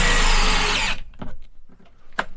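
A power drill drives screws halfway in while installing a caravan air conditioner, a loud continuous whir for about a second that stops abruptly, followed by a few light clatters and knocks.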